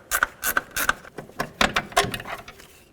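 A ratchet clicks in quick bursts while loosening the front upper control arm bolts on a 2006-12 Ford Fusion, with short pauses between close, crisp strokes.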